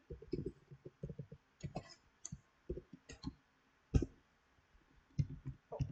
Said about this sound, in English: just gonna type in my password